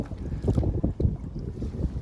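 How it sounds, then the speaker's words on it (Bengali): Wind blows across a small fishing boat out crab fishing on a village waterway, a low, moderately loud rumble with gusty swells and no voices. "অনেক বাতাস আজকে অনেক বাতাস"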